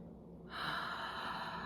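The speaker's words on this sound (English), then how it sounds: "Deep breath." A single deep inhalation drawn in close and soft, rising suddenly and then held as a steady airy breath, during a calming tapping exercise for releasing fear.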